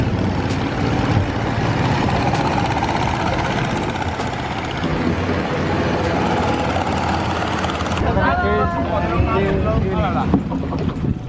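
A loud, steady long-tail boat engine drones throughout on Inle Lake, Myanmar, with wind buffeting the microphone and faint voices underneath; the engine noise shifts slightly near the end.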